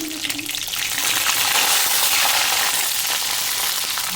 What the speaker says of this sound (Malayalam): വെളിച്ചെണ്ണയിലേക്ക് നമുക്ക് കടുക് ഇട്ട് കൊടുക്കാം